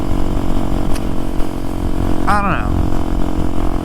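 A motorcycle engine runs steadily close by with a rough, buzzing drone under a rider's talking, a brief rising whine near the end.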